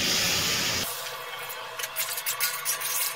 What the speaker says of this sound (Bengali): এবার আমি এর মধ্যে দিয়ে দেবো ডাল সিদ্ধ করার সময় যে জলটা ছিল,